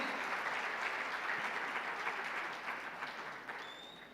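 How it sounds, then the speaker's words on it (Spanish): An auditorium audience in Córdoba applauds to welcome Rita Segato, dense continuous clapping that holds steady and fades gradually, with a faint tone near the end. "Fuerte, fuerte ese aplauso de este auditorio"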